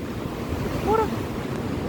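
Ocean waves at Loch Ard Gorge, a continuous wash of surf blended with heavy wind buffeting the microphone, with a brief faint vocal sound in the middle.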